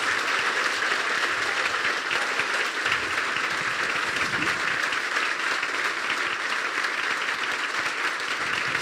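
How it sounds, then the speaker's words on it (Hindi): A church congregation at a Christian worship service in Punjab, India, claps loudly and continuously, a dense sustained wall of applause from a large crowd with no break. "क्या कोई हाथ उठाकर जोर से ताली बजा सकता है?"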